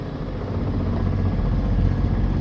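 A sailboat's inboard engine runs steadily while the boat sails closely hauled with sails up, a continuous low mechanical drone with faint clatter and wind-like rush, with no talk.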